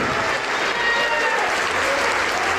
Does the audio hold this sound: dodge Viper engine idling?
no